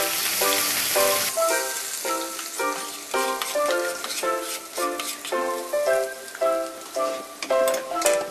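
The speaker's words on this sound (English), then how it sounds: "They will sizzle" Spice seeds, potatoes and green peppers sizzle in a hot pan for Nepali samosas, giving a steady, close crackle with regular stirring scrapes and no talking.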